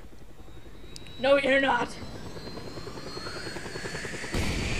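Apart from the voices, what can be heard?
news helicopter in Just Cause 2 video game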